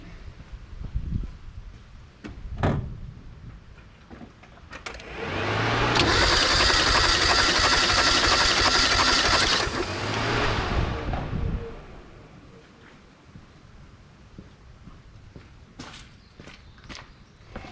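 A Mazda 323 engine cranks over for a compression check, a loud steady whirring churn of roughly six seconds between quieter handling noises and scattered knocks.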